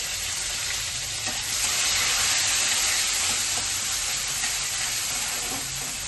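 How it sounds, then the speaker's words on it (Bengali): Panch phoron five-spice tempering for a Bengali fish curry sizzles in hot oil in a pan, giving a continuous bright crackling hiss at close range with no voice over it. "এই 5 ফোড়নটা একটু ফোড়ন হিসাবে দিয়ে দিলাম"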